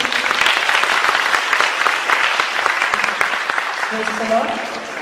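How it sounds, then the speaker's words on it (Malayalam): A congregation at a Christian prayer talk bursts into steady, dense applause for Jesus, the clapping filling the hall evenly before easing slightly toward the end. "നല്ലൊരു കയ്യടി കൊടുത്ത ഈശോയ്ക്ക്"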